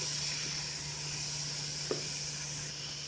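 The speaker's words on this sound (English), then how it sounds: "Stir and fry. We're stirring and we're frying." Ginger paste and ingredients stir-fry in a hot pan, a steady close sizzle with a low hum beneath and a single scrape of a utensil partway through.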